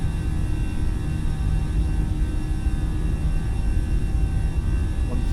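Airbus A320 jet engines in Microsoft Flight Simulator roar steadily through a takeoff roll, a loud, unbroken broadband rumble with a low hum beneath and no voices.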